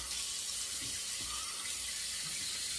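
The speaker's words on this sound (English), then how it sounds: "Just rinse that off." A tap runs steadily while a razor and shaving brush are rinsed under it, a close, even hiss of flowing water with faint splashes, no voices.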